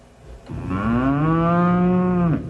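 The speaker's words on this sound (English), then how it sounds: "Moo." A computer sound effect of a cow lowing, one long sustained moo rising slightly then cut off, clear and close with nothing else heard.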